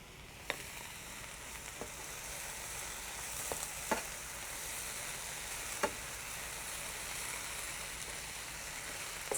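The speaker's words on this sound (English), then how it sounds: "And I'm going to give this a stir." Cabbage fries in a pan with a soft steady sizzle while a utensil stirs it, tapping the pan now and then, close and quiet, with no talk.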